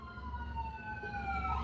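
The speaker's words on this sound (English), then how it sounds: "Ooh, there's a lot of ambulances." Emergency vehicle sirens wailing as ambulances pass along a highway, a steady rising-and-falling tone sustained over continuous road traffic rumble, moderately distant.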